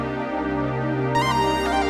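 A dense, sustained Korg Opsix SE synthesizer pad chord held with the sustain pedal, warm and full, with faint brighter shimmer entering partway.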